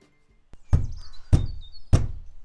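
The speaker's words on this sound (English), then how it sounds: "You've got to give it a right good whack." A Fiat 500 driver's door lock barrel is struck into place with three sharp, hard knocks spaced about half a second apart, close and loud against a quiet workshop background.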